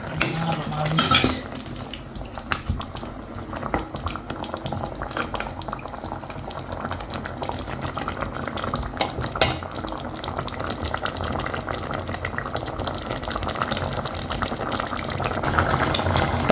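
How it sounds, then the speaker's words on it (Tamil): Steady bubbling and simmering from a pot of Jaffna-style mutton curry, with occasional stirring and clinks of a utensil against the pot, no voices. "கறி எப்படி கொதிக்குதுன்னு பாருங்க."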